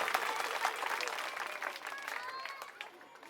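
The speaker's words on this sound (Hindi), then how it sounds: "आज की सभा के लिए जोरदार तालियां अपने लिए बजा दीजिए।" Crowd at a political campaign rally in Krishnanagar, Delhi, bursting into sustained, dense applause that stays loud and steady throughout, with a few faint voices and shouts mixed into the clapping.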